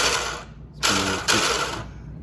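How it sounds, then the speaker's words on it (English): A Ryobi 18-volt battery-powered spreader runs its agitator in two short mechanical whirring bursts, close and fairly loud, with a steady rattling churn and a brief pause between them. "You can see the agitator spinning down there."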